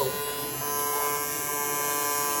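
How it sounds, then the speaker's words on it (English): Welding on a trailer at a drag racing event, a steady dense electric buzz with a constant crackling hiss, heard close and unbroken with no talk. "Some welding going on over here. They're welding it up."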